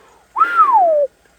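A reader's voice imitates the long whistle of a marsh-wiggle, a single clear tone lasting under a second that rises briefly and then glides steadily downward, close and loud against silence.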